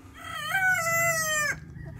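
A Shamo or Aseel rooster on a farm crows once, a clear, loud, drawn-out call lasting about a second before cutting off abruptly, with quiet farm background after.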